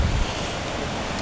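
Surf rolling onto a San Diego beach, a steady broadband wash of breaking waves with wind buffeting the microphone, continuous and fairly loud through the short stretch with no voices.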